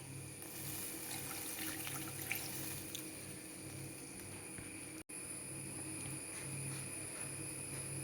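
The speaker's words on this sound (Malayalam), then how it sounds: "ഇനി നമുക്ക് വിനാഗിരി ചേർത്ത് കൊടുക്കാം." Vinegar is poured into a pan of bitter gourd and carrot pickle, giving a steady trickling liquid flow close by with a faint background hum and no talk.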